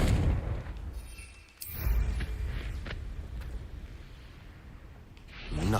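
A Confringo blasting curse explodes in Hogwarts Legacy, a sudden booming impact that surges loud, fades into a rumbling tail, then swells again near the end.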